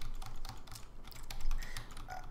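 Rapid, uneven clatter of keys on a computer keyboard, typed in quick bursts at close range with no talking.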